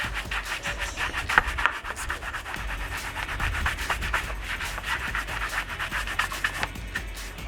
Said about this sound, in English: I just put it upright against the wall and I just brush it like this